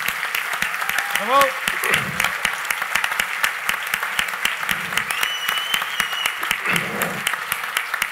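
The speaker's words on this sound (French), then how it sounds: "je pense qu'on mérite une belle main d'applaudissements, tout le monde ensemble" Audience applause at a gala, steady clapping throughout with a single shout of approval and some voices calling out over it.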